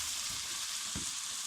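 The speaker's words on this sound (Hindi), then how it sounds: "और इसको थोड़ी देर फ्राई करके हल्का सा टमाटर हल्के देर तक गल जाए" Tomato masala frying in a pan for chicken and mash dal, a steady close sizzle that runs without a break for the whole short stretch, with a few soft stirring bumps and no talking.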